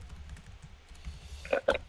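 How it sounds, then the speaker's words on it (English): Computer keyboard typing, faint and close over a low steady hum, with a couple of sharper keystroke clicks near the end. "I've been doing some rapid typing"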